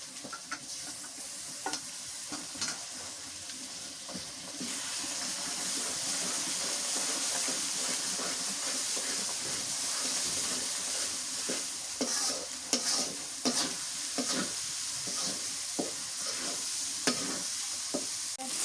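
Garlic, ginger, cumin and spice pastes fry in a pan for beef curry, giving a steady loud sizzle and hiss with intermittent stirring scrapes throughout, no voices.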